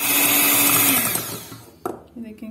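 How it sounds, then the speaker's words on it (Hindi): A blender whips cream with sugar and a couple of drops of vanilla extract, a loud steady whir that winds down and cuts off, then a few brief clatters and a short voice. "इसको फिर से ब्लेंड करूंगी कि ये अच्छी तरह साफ हो"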